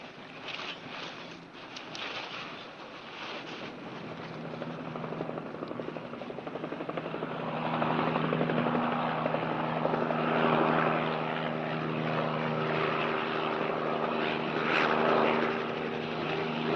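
A police helicopter flies overhead with a steady rotor thrum and engine drone that grows louder and denser partway through, continuing without speech.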